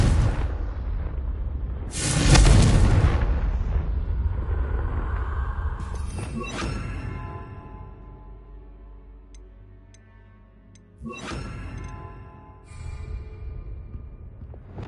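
Spell explosions from the Confringo curse in Hogwarts Legacy on PS5: a loud booming blast near the start, then a second sharper burst around the middle, with lingering rumble and tonal game music between.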